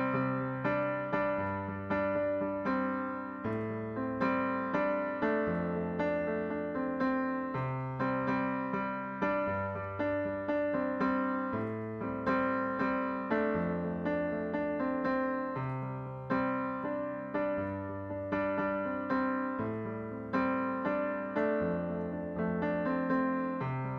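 A piano plays the intro of a song, steady and flowing, with repeating bass notes and chords in an even rhythm, clear and moderately loud throughout.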